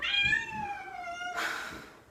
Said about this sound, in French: Elle miaule.